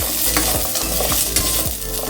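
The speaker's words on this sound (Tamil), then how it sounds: "கருவேப்பிலை போட்டு வதக்கி செஞ்சிங்கன்னா டேஸ்ட் வந்து சூப்பராக இருக்கும்." Curry leaves sizzle in hot oil in a pan for Chettinad mutton kulambu, a steady frying hiss broken by a few stirring scrapes, close and fairly loud.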